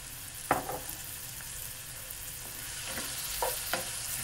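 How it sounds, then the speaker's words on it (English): A spoon stirs fried mushroom rice in a sizzling pan, with a steady frying hiss and a few soft scraping strokes against the pan. "You have to make sure that you keep stirring it so that nothing sticks to the bottom of the pan."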